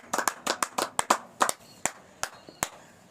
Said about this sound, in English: Do we clap him?